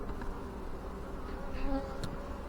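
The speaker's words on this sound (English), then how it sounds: "Just look at all those bees in there." Honey bees in an open hive box hum in a dense, continuous buzz that stays steady and close, with no voices over it.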